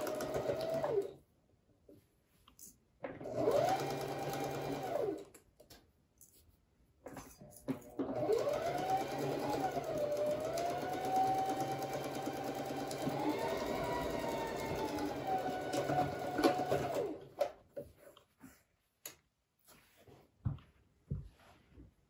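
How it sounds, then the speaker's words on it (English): A sewing machine running a second line of stitching a quarter inch from the seam, whirring in long steady runs with brief pauses between them. The sound is close and clear, with no talk over it. "sew a second line of stitching at a quarter of an inch"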